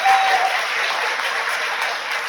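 Applause from an audience at an awards ceremony, a dense steady patter of clapping heard at moderate level throughout the short stretch.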